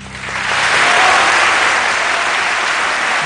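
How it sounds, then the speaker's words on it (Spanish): Applause after an orchestra concert at the Teatro Adolfo Mejía, a broad wash of clapping from a large theatre audience that swells quickly and stays loud and sustained. "En el Teatro Adolfo Mejía los aplausos parecían interminables"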